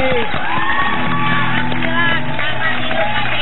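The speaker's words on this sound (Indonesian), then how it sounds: "Tepuk tangan dulu buat Wati" Studio audience on an Indonesian TV comedy variety show cheering and whooping for Wati, a loud, sustained crowd roar with shouts and raised voices throughout.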